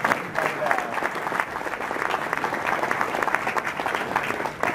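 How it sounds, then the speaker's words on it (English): A crowd applauds after a presentation at an investors summit in Toronto, with dense, sustained clapping that fills the room evenly from start to finish, loud and close with no voice over it. "Let's have one more round of applause"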